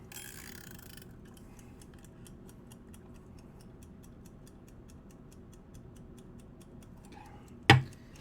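A small novelty clock shaped like a pig ticks steadily and evenly, close and clear, with one brief louder knock near the end.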